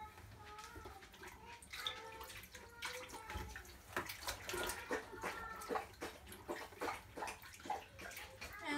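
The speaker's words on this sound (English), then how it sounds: "So I'll do one last squeeze. Make sure the most amount of water is out." Washed wool covers wrung and squeezed in water, giving close sloshing, squelching and dribbling sounds in uneven bursts, with a voice talking briefly over them.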